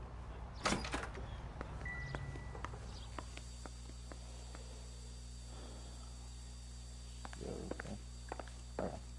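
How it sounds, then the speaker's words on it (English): A door opening and closing in the L.A. Noire video game, a faint creak and thunk amid soft footsteps and room ambience, with a few clicks and a low steady hum underneath. "Door."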